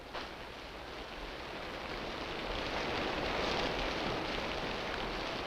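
Steady rain pours down on an African jungle in a 1957 film, a dense, continuous hiss that swells slightly louder midway and holds with no voices.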